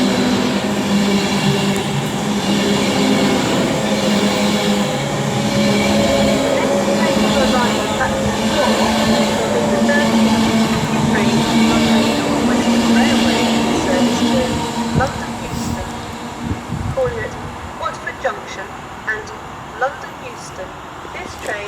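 A train at Milton Keynes Central on the West Coast Main Line, running to London Euston, rumbles loudly and steadily past for about fifteen seconds and then fades. Someone speaks over the noise.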